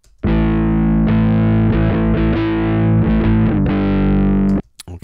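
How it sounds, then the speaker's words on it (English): Distorted electric guitar with its top end cut for a warmer tone, played on its own as a loud, sustained rhythm part of chords and short note changes lasting about four seconds before stopping. "I cut out some of that top end of the guitar, and I kind of created a more warmer distorted guitar sound."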